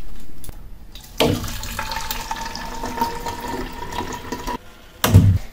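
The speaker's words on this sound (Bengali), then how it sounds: "জল ভরে নিলাম বন্ধুরা, এই ঘরেই তো আমাদের জলের এই ফিল্টারটা থাকে।" Water runs from a home water filter into a container, a steady close pour lasting several seconds, followed by a brief clunk as the flow stops.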